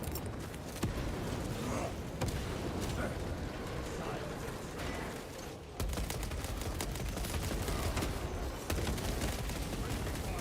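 Gunfire rattles in a Warhammer 40K video game battle as repeated sharp bursts over dense, noisy combat ambience, with voices faintly mixed in.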